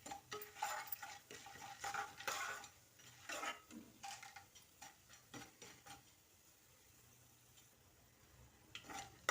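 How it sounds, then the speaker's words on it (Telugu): Cumin and a brinjal curry mixture fry in a pan while being stirred, giving soft, faint scraping and clinking strokes over a low sizzle that fades after a few seconds. "జీలకర్ర వేసాక మొత్తము ఒక్కసారి కలుపుకొని 1 నిమిషం పాటు ఫ్రై చేయాలండి"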